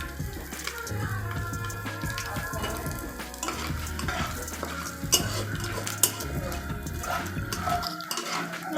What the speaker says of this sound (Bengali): ভালো করে ভেজে নিতে হবে লাল লাল করে।